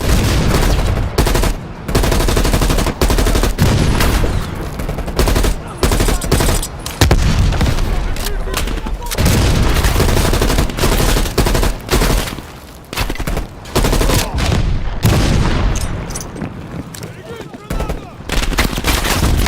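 Heavy gunfire in a Call of Duty battle scene, dense bursts of automatic and machine-gun fire with booming shots, loud and nearly continuous with short gaps, shouted voices mixed in.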